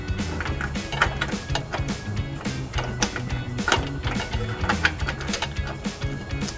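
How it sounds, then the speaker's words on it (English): A nut is spun by hand onto a trailer hitch bolt under a 2016 Ford Escape, with rapid, close metallic rattling and clicking at an uneven rhythm and no talking. "I'm just putting a lot of pressure on the bolt, pushing it to the side so it'll stay in place as I spin the nut on."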